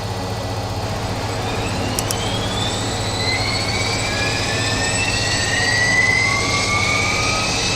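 A Jetstream 41 turboprop engine spools up during start in a flight simulator, a steady rising whine with climbing tones over a constant low drone, loud and continuous with no talk.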